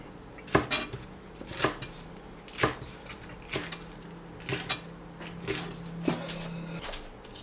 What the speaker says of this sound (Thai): ถ้าใส่ต้มยำก็หั่นประมาณสักหนึ่งนิ้ว